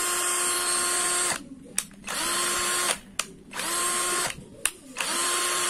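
JLD cordless battery drill with a brushed motor spinning at its low speed 1 setting, a steady whine that cuts off and restarts several times in short bursts.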